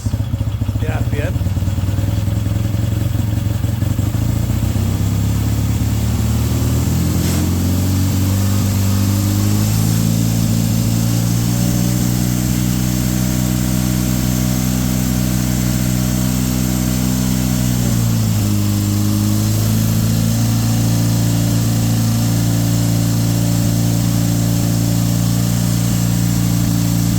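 Triumph T140/T120 motorcycle engine running close and loud, its steady idle rising as the revs are increased, held high, then dipping before climbing again.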